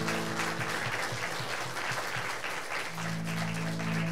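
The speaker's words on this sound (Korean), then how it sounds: "주님 경배의 박수 올립니다" A church congregation clapping in worship at a Friday night service, sustained hearty clapping with a loose rhythmic pulse, and a low sustained instrument tone entering near the end.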